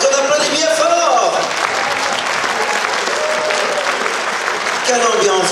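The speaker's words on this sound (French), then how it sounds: "On t'applaudit, on te reçoit très très fort." A large audience at a Christmas variety show claps loudly and steadily from start to finish, a dense, continuous wash of applause.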